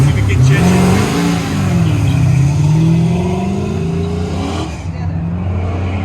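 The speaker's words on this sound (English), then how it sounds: "434 cubic inch engine." A 1972 split-bumper Camaro with a 434 cubic inch engine roars loudly at a drag race shootout, its revs rising and falling in a sustained, strong engine note with some crowd noise underneath.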